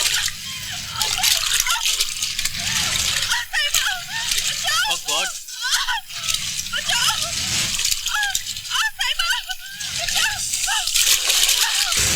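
A person splashes frantically in deep water, struggling as if drowning. Loud, continuous splashing and sloshing fills the scene, and voices cry out over it.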